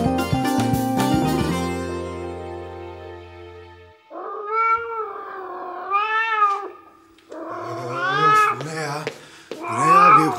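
A loud domestic cat meows and caterwauls in several drawn-out, wavering cries, close and prominent after a brief stretch of music at the start.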